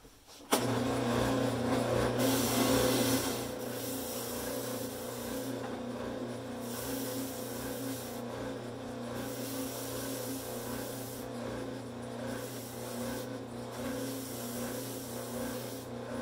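Steady, loud rasping and rubbing as a wooden bow blank is shaped by hand for a bow build, continuous for the whole stretch with no talk.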